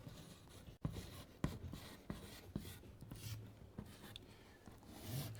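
Chalk or marker scratches across a board in short, quick strokes while math is written out, a close, continuous rubbing with sharp taps at the ends of strokes, fairly faint and with no talking.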